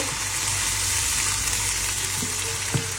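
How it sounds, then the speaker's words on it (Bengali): A boiled egg fries with a little tomato in a pan, a constant dense sizzle close by with a few faint scrapes and one small clatter near the end. No voices. "রাত্রে সেদ্ধ করা ডিমটা একটুখানি টমেটো দিয়ে ভুনা করব"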